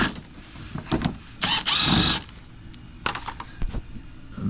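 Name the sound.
removing 10mm bolts on a 2023 Toyota Prius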